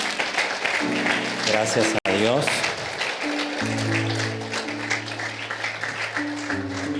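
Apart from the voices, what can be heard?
congregation applauding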